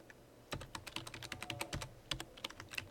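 Fingers type on a computer keyboard in a quiet room, an irregular run of soft, close keystrokes and clicks with no talking.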